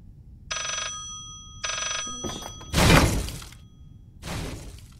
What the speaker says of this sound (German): Mein Telefon!